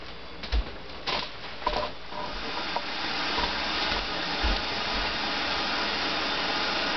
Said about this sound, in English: we've achieved rolling boil, which is exactly what we were after